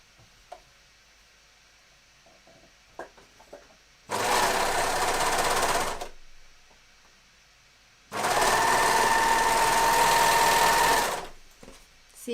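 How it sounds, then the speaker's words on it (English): A sewing machine or overlocker stitches the short cuff edge of a bomber jacket in two loud, steady bursts of about two and three seconds, with quiet handling noises and pauses between them. "And then you want to overlock or stitch down this short edge here."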